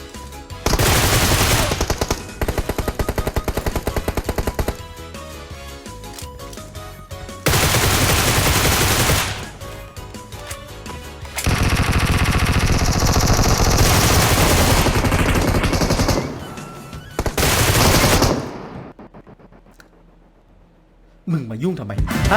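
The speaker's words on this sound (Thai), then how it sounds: "เขากำลังยิงกันอยู่" Rapid automatic gunfire in PUBG Mobile, loud close bursts of machine-gun fire repeating in long stretches with short gaps, with voices talking over it.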